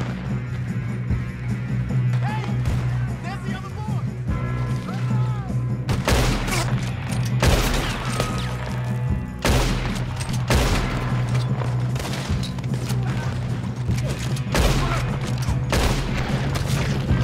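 Loud gunfire fills a shootout in the Red Dead Redemption 2 video game: repeated bursts of rifle and pistol shots with heavy booming reports, dense and continuous, over an outdoor game soundscape.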